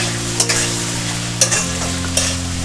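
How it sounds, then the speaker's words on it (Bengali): Bottle gourd peel and slit green chillies sizzle loudly in a pan while a spatula stirs them, scraping and clicking every second or so over a low steady hum. "এবার এটা ভালো করে নেড়ে নেব"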